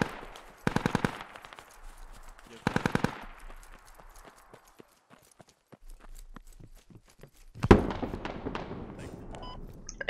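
Gunfire in the Squad video game comes in two short automatic bursts, loud and close, followed later by a sharper single crack with a trailing rattle of shots, while faint game noise sits between them.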